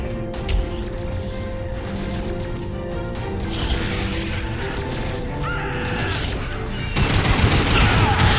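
Sustained gunfire in a Lost Planet 3 cutscene on a snowy alien world, a dense continuous fusillade layered with mechanical clatter and score, swelling louder near the end.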